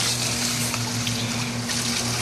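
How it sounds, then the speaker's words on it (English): Water from an air-fed bottom-drain pipe splashes into a pond sieve filter, making a continuous close rush and patter with a steady low hum beneath, and no talking. "Every once in a while, I get a little bit of splash out over the top."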